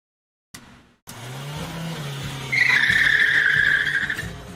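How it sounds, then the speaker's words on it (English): A car's tires squeal in a loud skid that rises and holds for a couple of seconds over engine rumble, after a sudden start and a brief break in the sound. "This is a car crash only video, made with clips that were featured on this channel."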